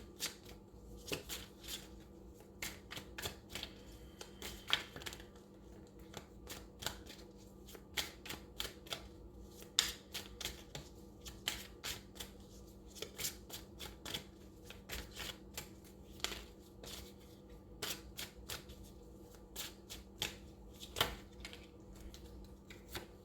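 Tarot cards are shuffled steadily and close by, with a continuous run of crisp, papery flicks and clicks over a low, steady hum. No one speaks.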